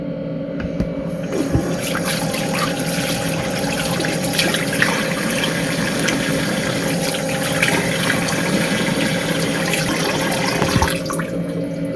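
Steady running water from a tap while a face is washed with cleanser at a sink, a continuous broadband rush holding evenly from start to finish with faint clatter underneath and no talking.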